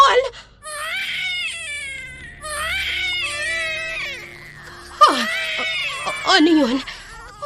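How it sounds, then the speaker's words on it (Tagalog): Several babies wail and whimper in rising, quavering cries as an eerie sound effect in a Filipino aswang horror story, the cries overlapping and breaking into sharp shrieks toward the end. "May naririnig akong mga iyak ng sanggol?"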